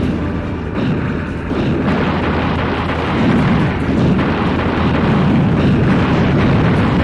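A red target blows up in the WarHawk video game, a loud, sustained roaring blast with heavy low rumble that stays dense for several seconds without letting up.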